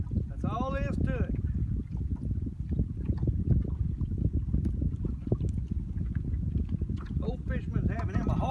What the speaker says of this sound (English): The wind's going to affect me today, and that's all there is to it.